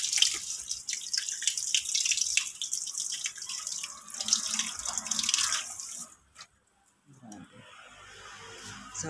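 Tap water pours steadily into a sink to melt ice from a refrigerator, a loud continuous hiss for about six seconds, then cuts off, leaving quiet room sound with a faint drip.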